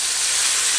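Palao ingredients fry in a pan with a steady, loud, close sizzling hiss, constant and unbroken for under a second.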